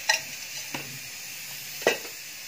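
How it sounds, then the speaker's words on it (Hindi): Oil, about two and a half spoonfuls, heats in a pan with a steady faint sizzle, broken by a few sharp scrapes or taps of a spoon, at moderate distance and without talk. "अभी तेल गरम होने देती हूँ।"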